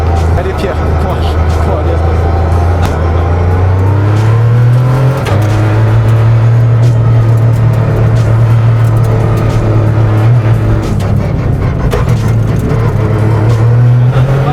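A Peugeot 208 Rally car engine drones loudly from inside the cabin, its pitch climbing through gears as it accelerates, with people speaking over the roar.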